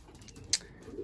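A racing pigeon gives a soft, low coo in a quiet loft, with a brief faint sharp click partway through.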